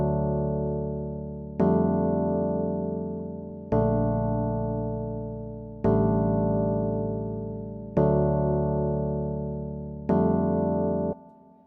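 Sustained piano chord pattern for an amapiano beat in FL Studio, with five full chords struck roughly every two seconds, each ringing and slowly decaying into the next, played alone.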